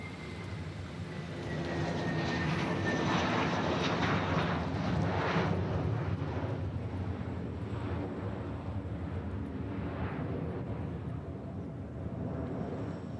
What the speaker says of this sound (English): Is that an American shorty Dreamliner